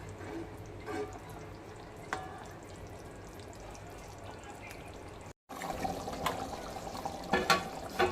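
Chicken curry simmering in separated oil over a low flame: a soft, continuous bubbling hiss that cuts out briefly, then returns a little louder with a few crackles.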